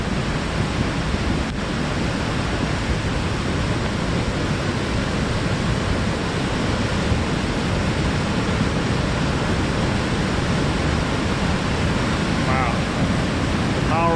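Floodwater surges through a normally dry creek after heavy rain, a loud, steady, broadband rush of turbulent water close to the microphone that continues unbroken throughout.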